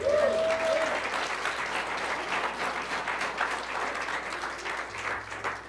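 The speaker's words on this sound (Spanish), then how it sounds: "Dale un aplauso al Señor." A church congregation claps in a sustained, dense round of applause, with a brief tonal sound at the start under the clapping.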